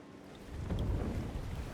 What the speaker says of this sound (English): The door bursts open, a powerful wave of water crashing down towards you.